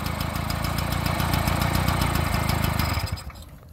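A Peugeot 103 moped, kick-started, runs with a steady, loud, rapid two-stroke putter and knocking vibration close by, then drops away sharply near the end.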